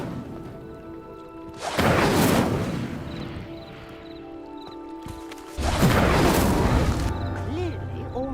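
Two separate bursts of the Incendio fire spell in Hogwarts Legacy flare up as a pyre is lit, each a loud whooshing crackle lasting about a second, with quiet game ambience and talking in between.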